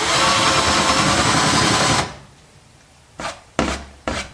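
A loud continuous grinding rasp of a drill bit cutting into pallet wood, stopping abruptly, followed by three short scraping bursts.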